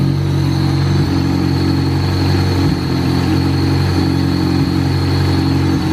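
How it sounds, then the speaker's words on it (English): Turbocharged stock Honda Del Sol D16 engine running at a steady idle with a slight shake, a continuous loud close hum with low harmonic throb and faint wavering, heard alone without voices. "Motor's still got a little bit of shake to it, not too bad."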